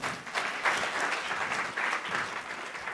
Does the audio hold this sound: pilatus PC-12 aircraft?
no